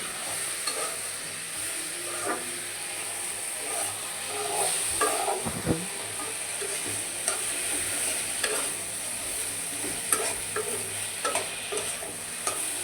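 Tomato tipped into a pan of frying green chilli, turmeric, chilli, ginger and garlic for noodles, giving a steady close sizzle with a scraping stir partway through and no one talking.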